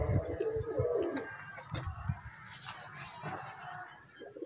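Pigeons coo nearby in low, throaty, rolling calls, repeating softly against faint outdoor background noise.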